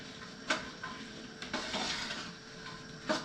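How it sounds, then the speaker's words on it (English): A spoon scrapes and clinks in a pot of ground beef, onions and peppers cooking for chili, several irregular metallic knocks over a soft continuous sizzle, close up with no talk. "So let's get this all stirred up."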